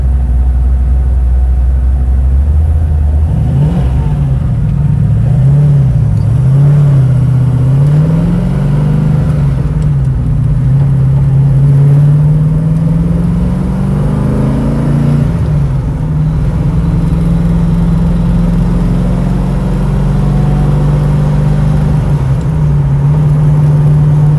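A 1970 Ford Mustang Mach 1 engine runs steadily while driving, a loud, close low rumble that swells and revs several times in the first half before settling into an even drone, with no talking.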